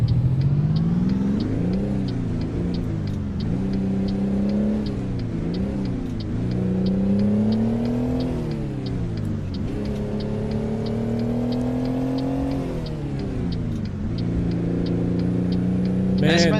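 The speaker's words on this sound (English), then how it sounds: "This engine's a real screamer." A truck engine in American Truck Simulator revs and climbs through repeated gear changes, its loud, steady drone rising in pitch and dropping back with each shift, with faint ticking clicks throughout.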